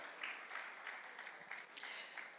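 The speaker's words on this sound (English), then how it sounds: "Please, a round of applause for Dr. Ibukun Adebayo." Applause from an audience at a real estate summit, a soft spread of many hands clapping, fairly faint and distant in the hall.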